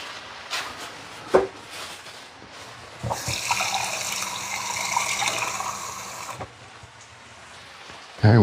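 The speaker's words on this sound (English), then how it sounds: "let me add some more liquid to this." Liquid poured into a cooking mixture in a home kitchen, a steady close splashing and trickling stream that builds in the middle and then tapers off, with a few knocks around it.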